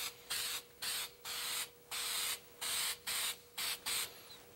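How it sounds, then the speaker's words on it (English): Dulling spray from an aerosol can is sprayed onto a shiny product surface on a studio set, heard as nine or so sharp hissing bursts of about a third of a second each in a steady rhythm, close and alone. "To take that down, we take dulling spray."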